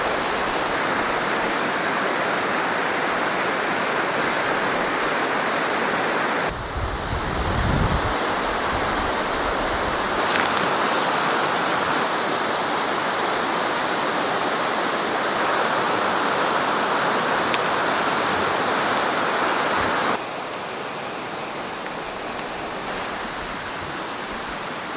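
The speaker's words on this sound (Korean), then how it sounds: "이 흐르는 물을 보니까 굉장히 시원한 느낌이 듭니다" Water flowing steadily in a shallow stream beside a winter campsite, a continuous broadband rush heard up close and alone, with a brief low thump near the start.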